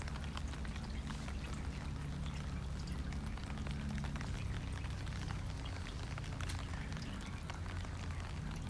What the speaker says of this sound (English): Welcome to the third day of rain and cold.